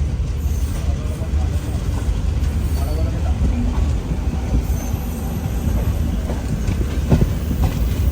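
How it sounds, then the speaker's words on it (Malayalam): A train pulls into Madgaon Junction railway station, a loud sustained rumble of rolling wagons with clacking wheels and occasional squeals, close by throughout. "മഡ്ഗാവ് ജംഗ്ഷൻ റെയിൽവേ സ്റ്റേഷനിലേക്ക് ഇതാ നമ്മുടെ ട്രെയിൻ എത്തിക്കൊണ്ടിരിക്കുകയാണ്"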